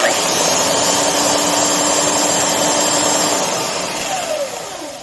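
Bosch 1273D 4x24 inch belt sander, freshly serviced with new bearings, running with a loud steady whine and whir that continues throughout and then tapers as it winds down near the end.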